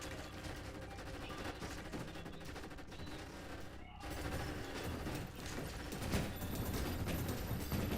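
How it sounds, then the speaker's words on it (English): Sustained gunfire in the video game G String, with dense rattling volleys and overlapping shots that run without a break, loud and continuous. One short gap comes partway through. "I don't know what they're shooting at"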